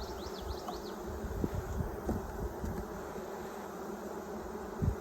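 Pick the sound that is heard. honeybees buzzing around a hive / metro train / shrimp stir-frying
honeybees buzzing around a hive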